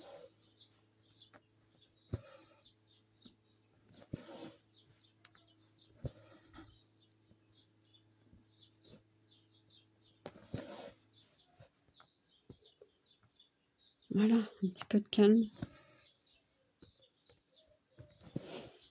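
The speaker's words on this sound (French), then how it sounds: "On entend les oiseaux maintenant." Birds chirp and tweet outdoors in short, repeated calls scattered through a quiet scene, faint to moderate, with a brief stretch where a person speaks over them.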